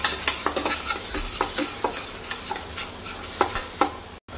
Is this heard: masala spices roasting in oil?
yes